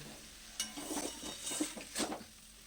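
Spice paste sautéed in a pan for small fish with onion stalks, a soft steady sizzle with several scraping stirs of a spatula, close and fairly quiet, no talking.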